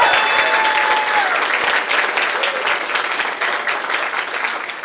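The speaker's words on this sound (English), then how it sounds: "Would you give a round of applause to our library director one more time?" Sustained, full applause fills a hall during a public library budget address as the crowd honors the library director, many hands clapping densely and evenly at close range for several seconds, with a faint tone sliding through early on.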